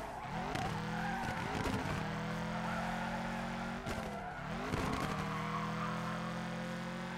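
A stock Nissan Silvia drift car in Overdrift Festival revs hard with a steady engine drone, and its tyres squeal through repeated skids, the engine pitch dipping and climbing again with each slide.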